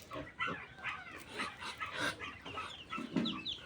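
A mother duck with newly hatched ducklings on a farm, moved into the shade of a calamansi tree, gives a close, steady run of peeping and clucking calls that overlap across the whole stretch.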